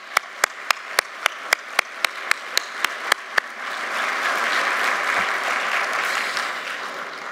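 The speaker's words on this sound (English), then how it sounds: "let's give you a round of applause" Campus audience at a university spring address breaks into applause: a dozen distinct, evenly spaced claps ring out first, then a dense wash of clapping swells and holds steady, moderately loud.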